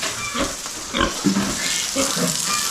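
Fattened sows grunt on a pig farm in short, close bursts across a couple of seconds, the low grunts rising out of a steady background noise.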